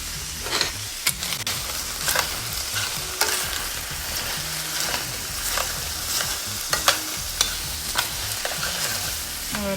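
Onions and peppers sizzle steadily in a pan while a utensil stirs them, with repeated scraping knocks and clinks rising over a constant bright frying hiss; no one speaks.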